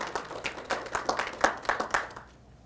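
A small audience at an African American Read-In event gives a brief round of applause, a sparse patter of individual claps that fades out after a couple of seconds.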